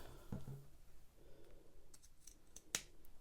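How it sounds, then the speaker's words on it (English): Scissors snip fabric where a sewn garment's pocket meets the side seam, giving a couple of sharp, close cutting clicks near the start and one crisp snip later on, with quiet rustling in between. "Where the pocket meets our side seam, we're going to snip,"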